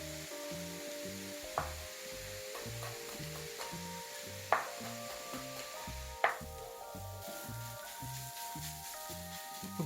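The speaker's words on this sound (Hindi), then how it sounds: "घी के ऊपर गाजर की जो भुनाई हुई है" Grated carrots roast in ghee for gajar ka halwa, a quiet, even sizzle with a rhythmic stirring pattern and a few sharp knocks of the spoon against the pan.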